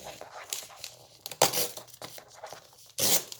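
Paper pages for a junk journal notebook being trimmed, with short scraping cuts and two louder rasping slices, close and sharp.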